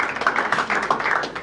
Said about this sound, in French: Je sais qu'on a applaudi légèrement parce qu'elle est venue en retard